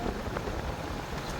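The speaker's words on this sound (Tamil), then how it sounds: "இப்போ நாங்கள் இந்த வீதியில் பயணம் செய்து கேட்க பார்த்தீங்கன்னா மழை பெய்து கொண்டு இருக்குது" Rain falls while travelling along a road in Kilinochchi, a steady dense hiss of rain and road noise throughout, with no talking.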